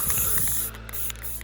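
A short burst of spray paint hisses onto the details of a cardboard helmet, followed by faint, softer spraying.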